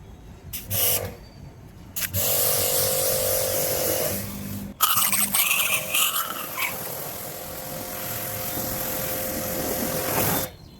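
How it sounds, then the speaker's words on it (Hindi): A pressure washer sprays water over a Tata Punch CNG car, a steady broadband hiss that runs loud and close with brief stops and restarts near the start, with no talking. "गाइस, ये अपना प्रेशर वॉशर और अपन पानी मारना स्टार्ट करते हैं।"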